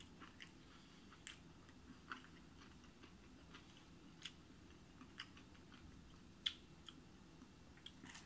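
Crispy, freshly fried chicken is chewed close to the mouth, giving faint, crisp crunches and clicks spaced irregularly over a quiet background.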